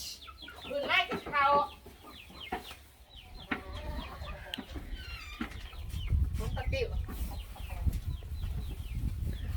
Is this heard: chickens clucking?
yes